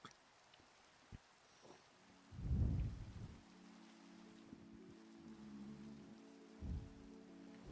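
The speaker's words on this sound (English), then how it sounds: "It's raining." Rain falls in a modded Minecraft survival game as a soft, continuous patter, broken by a couple of deeper rumbling thuds and faint low tones, with no voices.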